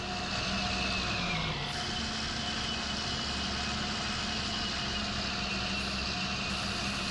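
Farming Simulator 19 feed mixer wagon running steadily, producing a continuous mechanical drone with a low engine hum throughout, close and even, with a brief shift partway through and no talk.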